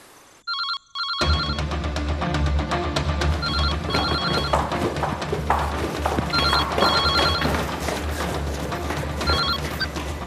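A telephone bell rings in repeated bursts over a busy, loud background of music in a Hindi crime drama scene.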